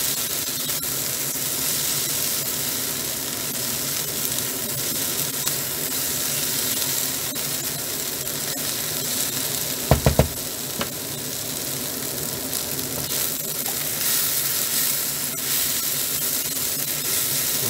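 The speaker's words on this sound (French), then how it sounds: "on cuit pendant 3 à 5 minutes ce mélange là" Chorizo mixture frying in a pan, a steady dense sizzle that stays even for the whole stretch, broken by a brief clatter near the middle, with no talking.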